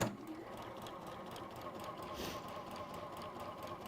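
A sewing machine runs steadily, stitching along a marked line through fabric, a continuous close mechanical whir held at an even level throughout.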